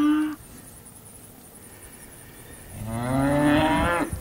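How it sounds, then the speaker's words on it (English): Farm calves moo: one brief low call at the start, then after a quiet stretch a long, loud, drawn-out moo close by. "These are a docile set of calves."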